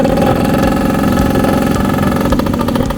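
A Yamaha Mate 100 motorcycle, restored with original parts, runs with a loud, close, steady engine chug that throbs evenly throughout, with no voices over it.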